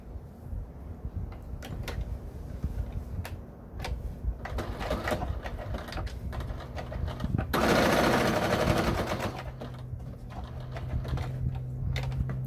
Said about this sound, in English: go ahead and sew around 3 sides